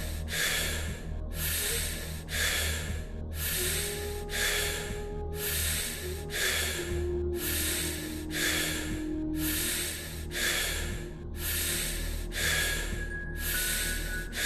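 Deep, rhythmic breathing during a breathwork meditation session, about fourteen forceful breaths in steady succession, each a loud airy rush, close up over a low background hum and drone.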